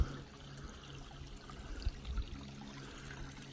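Faint, steady trickle of water running over rocks in mountain crags along the Pacific Crest Trail, soft and continuous with small bubbling swells.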